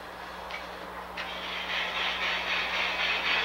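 An LGB model train runs along track on an automatic two-track yard layout, a steady close hiss and rolling rumble that builds gradually, with a faint low hum underneath and no voices.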